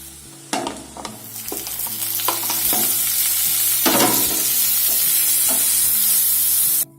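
Tomatoes fry in a hot pan for pepper egg roast, a steady loud sizzle running throughout with scraping stirs and spoon knocks against the pan, no voices.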